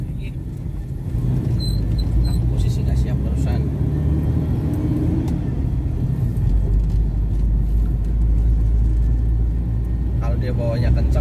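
A car driving along a road in Banjarnegara, its steady low engine rumble and road noise continuous and close, with people talking over it.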